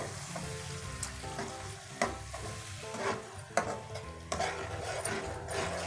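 Ground spice masala with tomato puree fries in a pan, a close, continuous sizzle broken by stirring scrapes and small clatters of a spoon against the pan.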